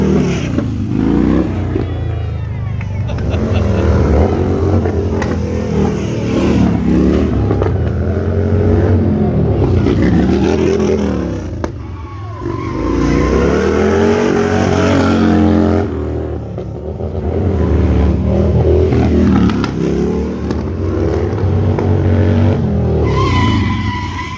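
Harley-Davidson stunt motorcycles rev and roar loudly and nearby in repeated rising and falling bursts, with tire squeal and skidding mixed in.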